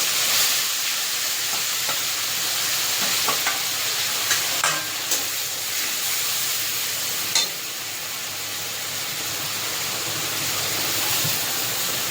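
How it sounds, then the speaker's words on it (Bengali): Grated onion hits hot oil spiced with cinnamon, giving a strong, even sizzle that fills the whole stretch, with a few faint spatula taps early on and no voices. "এই পেঁয়াজটা তেলে দিয়ে দেবো"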